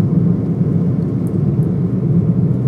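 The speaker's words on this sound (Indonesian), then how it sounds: "Waduh, knalpotnya asik banget suaranya nih." A modified Toyota Vios Limo GR TRD Sportivo cruising at about 60 km/h gives off a steady, deep exhaust drone heard from inside the cabin, low and continuous with no talking.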